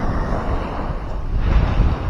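Sea at a river mouth where the river meets the ocean, heard as a steady roar of surf and water with strong wind buffeting the microphone throughout, fairly loud and with no talk.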